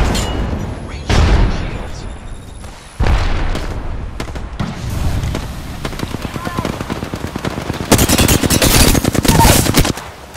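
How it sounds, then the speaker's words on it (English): Gunfire in the battle-royale video game Apex Legends: loud bursts of automatic fire and heavy shots come in clusters, with dense rapid volleys near the end, while a character voice speaks over parts of the fighting. "I'm getting shot. Fire. Recharging shields. I am taking fire"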